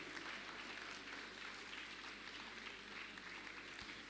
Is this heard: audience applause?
yes